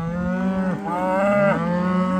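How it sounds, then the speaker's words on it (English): Cattle being herded across a road on an upstate New York pasture farm give out a long, loud, wavering moo and then a second rising bellow. Both calls are close and carry over a steady low background hum, with no talking. "Come on, cows!"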